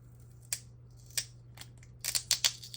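Scissors snip through packing tape on a parcel, a few sharp, close metallic snips spaced apart, then a quick cluster of three or four cuts near the end, over a quiet low hum.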